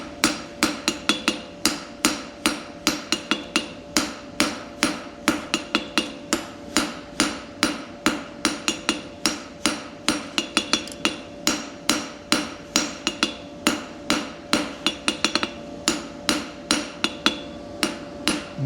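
Blacksmith's hammer forging a pritchel, a steady rhythmic series of sharp ringing blows on the anvil, loud and close, continuing throughout with no speech.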